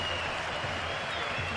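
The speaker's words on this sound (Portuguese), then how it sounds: "Ó a torcida." Football supporters in a stadium crowd at a Brazilian Série C match between Guarani and Confiança make a steady, dense roar of cheering and clapping, continuous and fairly distant.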